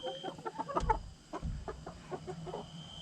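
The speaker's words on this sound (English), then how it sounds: "all that chatter and everything is they're pecking order, trying to get it down where they're gonna be sleeping and everything" Baby chickens chatter and peep in a coop as they settle their pecking order, with a busy overlapping stream of close, high chirps and soft clucks.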